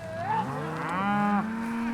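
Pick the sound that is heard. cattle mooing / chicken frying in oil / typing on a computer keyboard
cattle mooing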